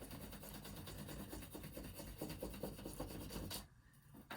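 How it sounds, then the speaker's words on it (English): A crayon rubbed firmly across paper laid over a textured surface to make a frottage print, giving a steady, rapid rasping scrape with quick back-and-forth strokes that stops abruptly near the end. "rubbing with the side of the crayon, rubbing with the end of the crayon on an angle"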